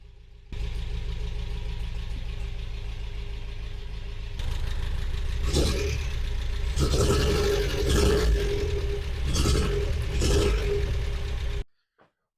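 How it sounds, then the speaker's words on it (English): An MGB car with its B-Series engine runs at idle, a steady low rumble that grows slightly louder partway through, with bursts of clattering and knocking mixed in before the engine cuts off at the end. "this is the last time you'll hear this car running with a B-Series engine."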